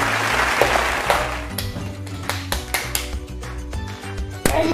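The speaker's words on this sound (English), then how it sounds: "Clap for yourself." A young boy building a LEGO Architecture Singapore Skyline set claps for himself, a run of sharp, uneven handclaps close by over steady background music.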